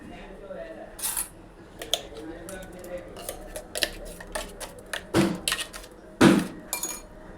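Chutney scraped out of a mixer jar into a bowl in a home kitchen, giving sharp clinks and knocks of metal and glassware, two louder clatters standing out over quiet background noise.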